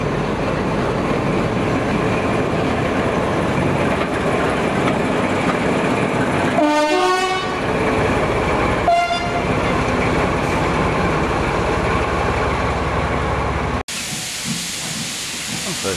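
A heritage railway locomotive rumbles past beside the Manchester Ship Canal, a steady loud roar with two blasts of its horn midway, ending in an abrupt change of scene.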